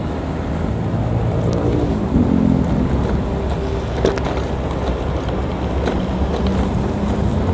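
A vehicle drives along the main Kalimalang road on an overcast morning, a steady close rumble of engine and road noise with passing traffic, no voices.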